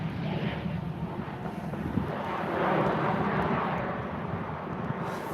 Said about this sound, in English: Have a Ryanair 737.